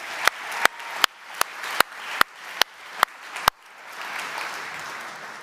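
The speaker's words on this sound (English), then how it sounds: "And a big round of applause" An awards ceremony audience at the F1 in Schools World Finals at Silverstone: a run of loud, regularly spaced sharp claps, then a broad crowd applause swelling and holding.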